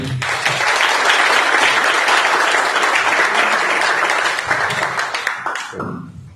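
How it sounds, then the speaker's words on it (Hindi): An audience at a network marketing training event in Hisar bursts into loud, sustained applause that fills the room and dies away quickly at the end. "एक बार आप अपने लिए जोरदार तालियां जरूर बजा दीजिए।"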